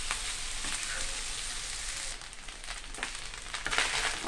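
Fried rice being stirred and tossed in a frying pan, a steady close sizzle with scraping stirs that swell toward the end.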